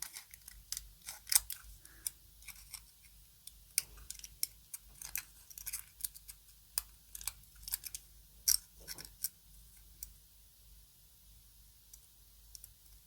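Scissors snipping and clicking irregularly at close range while trimming the edges of a retro phone paint kit, with rapid small cuts and brief pauses throughout.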